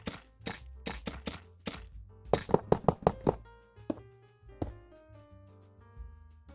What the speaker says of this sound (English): I'm going to let the golems destroy this wither.